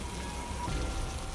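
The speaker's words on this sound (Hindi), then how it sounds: "बारिश ने और भी विकराल रूप धारण कर लिया" Heavy, steady rain pours down as a storm effect in an animated story, a dense continuous wash of falling water heard alone without any voices.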